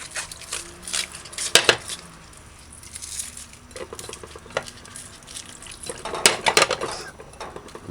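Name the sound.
rinsing vegetables under running water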